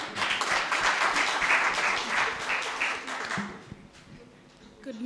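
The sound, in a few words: audience clapping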